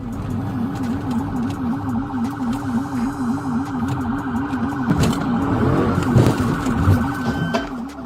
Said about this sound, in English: Sirens blared as ACE unit officers pursued relentlessly.